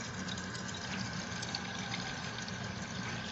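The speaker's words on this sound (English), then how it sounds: "add a cup and a half of warm water for a measuring cup" Warm water poured from a measuring cup into flour for pizza dough, a faint, steady liquid rush and trickle continuing evenly throughout with no voices.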